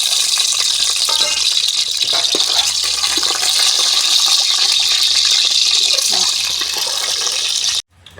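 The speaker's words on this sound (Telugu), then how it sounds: "ముందుగా అయితే గుడ్లు అయితే వేపేసుకుందామండి" Eggs frying in hot oil in a pan, a steady loud crackling sizzle that hisses continuously without pause before cutting off abruptly at the end.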